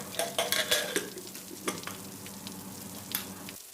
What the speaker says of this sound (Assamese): বাকী থকা মাছখিনিও মই এনেদৰে ফ্ৰাই কৰি ল'ম